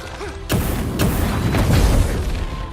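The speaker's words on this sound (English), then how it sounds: "I dodged the explosion that time." Explosion in the video game Clair Obscur: Expedition 33, a sudden loud boom followed by sustained rumbling blasts and crackling debris that fade slightly at the end.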